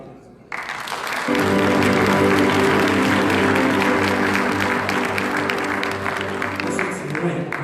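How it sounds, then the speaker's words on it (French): Congregation applause at a Haitian Baptist church service in Philadelphia, swelling in after a brief pause and holding steady and loud, with a sustained musical tone underneath. "Un applaudissement"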